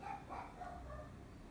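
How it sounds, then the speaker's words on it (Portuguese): A dog barks a few times at a distance, soft short yaps in quick succession over a quiet background. "Cachorro latindo."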